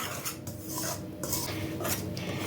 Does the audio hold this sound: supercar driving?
no